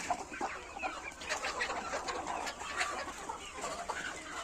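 Pure gavran desi hens on a farm cluck and chatter together in a continuous, moderately close flock murmur with overlapping calls.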